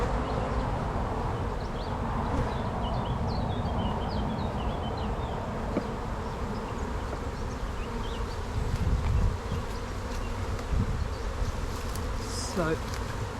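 Honey bees swarm and buzz loudly around an opened hive during an inspection, a dense continuous drone filling the whole stretch, with a few faint background sounds.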